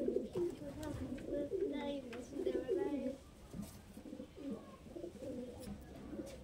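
Madras pigeons cooing in a loft, repeated low throaty coos overlapping one another close by, with faint background chatter and a few small chirps mixed in.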